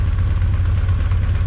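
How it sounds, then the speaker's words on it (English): A Honda CB900 motorcycle engine idling at about 1100 rpm, a loud, close, steady low-pitched burble with an even pulsing rhythm. "I got it idling at 1100"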